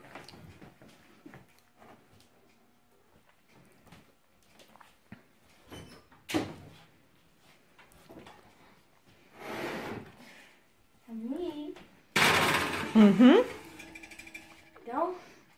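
An oven door is opened with mechanical clunks and rattles so a cinnamon coffee cake can go in, in a home kitchen. Scattered handling knocks come first, then a louder clatter and scrape near the end, with people talking in between.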